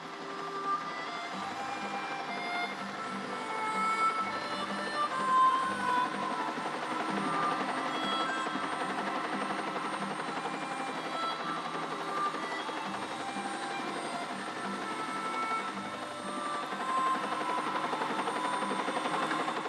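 A helicopter flies a film crew toward a cave entrance. Its rotor and engine drone is steady and continuous, moderately loud with a slight rhythmic beat, and it stays at a fairly constant distance throughout with no voices.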